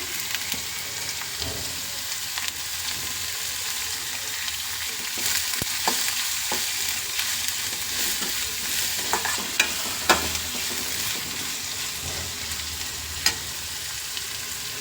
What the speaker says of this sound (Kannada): ಅದಕ್ಕೆ ಈಗ ಹಸಿಮೆಣಸಿನ್ಕಾಯಿ ಹಾಕ್ಕೊಂಬಿಡೋಣ